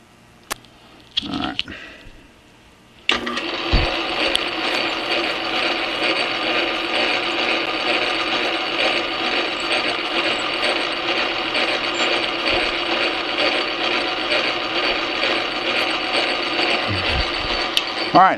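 A metal lathe bores into a spacer for a chuck backplate, starting with brief clanks before a loud, sustained grinding whir with a rhythmic mechanical chatter that continues evenly to the end.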